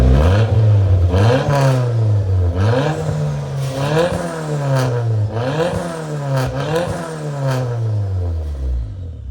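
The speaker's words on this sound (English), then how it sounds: "you guys heard that turbo just spooling up." A turbocharged Honda Civic engine revs repeatedly in loud, rhythmic bursts, each rise and fall of RPM sweeping smoothly, with a faint turbo whoosh and clattery mechanical edges near and close up.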